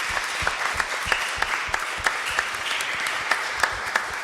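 A church congregation claps together during a worship service, crisp rhythmic applause in a brief burst of distinct hand claps, with no speech over it.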